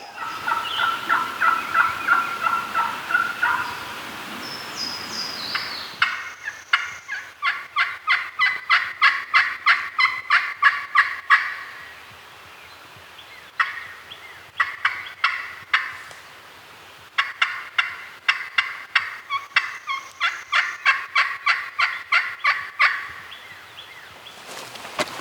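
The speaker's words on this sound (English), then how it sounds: "Just gobbled right down in there." A wild turkey in rugged wooded terrain calls in long runs of rapid, rhythmic pulses. The calls repeat in several bouts with short quiet gaps between them, and no one speaks.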